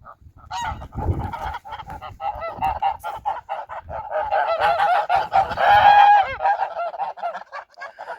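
Farmyard geese on a homestead, a gander among his flock, honk repeatedly in loud, close, overlapping bursts that build in the middle and then trail off into scattered calls.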